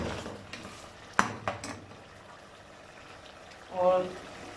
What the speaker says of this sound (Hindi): थोड़ा सा चम्मच चलाएंगे अपना।